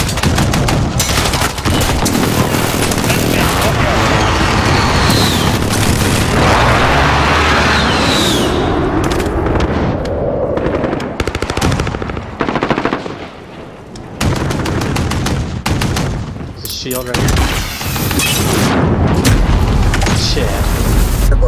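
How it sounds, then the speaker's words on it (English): Precision airstrike blasts in Call of Duty: Modern Warfare, with loud repeated booms and bursts of rapid gunfire in a chaotic, dense sequence, broken by short lulls and with voices now and then. "Friendly precision airstrike on the way."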